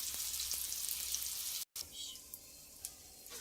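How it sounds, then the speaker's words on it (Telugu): Masala fries in a pan with a soft, continuous sizzle. The sizzle drops out briefly, then returns fainter with a few light clicks. "మసాలా వేరుగా వేయించుకోవాలి"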